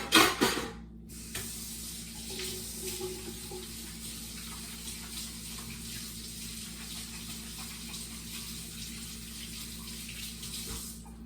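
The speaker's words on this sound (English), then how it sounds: "Go wash my hands" Running tap water pours steadily into a kitchen sink while hands are washed, a close continuous splashing rush after a brief clatter at the start.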